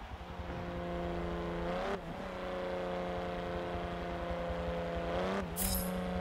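A race car engine in a racing video game holds a steady, buzzing drone with two quick dips and climbs in pitch as it shifts, loud and alone with no talk.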